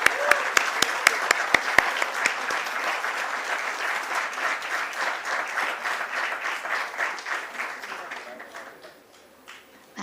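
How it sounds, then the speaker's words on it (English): A crowd at a stock exchange listing ceremony for GNG Electronics Limited breaks into applause, opening with a few sharp near claps and settling into sustained clapping that fades toward the end, with some voices mixed in. "Let's have a huge round of applause."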